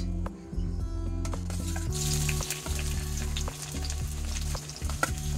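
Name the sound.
onion frying in hot oil in a kadai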